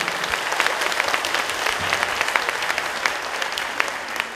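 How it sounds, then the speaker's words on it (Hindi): Sustained applause from an audience thanking performers at a Ramleela and Dussehra celebration, a dense, loud crowd clapping continuously throughout. "एक बार फिर जोर से तालियां बजाकर इन सभी कलाकारों का धन्यवाद करें"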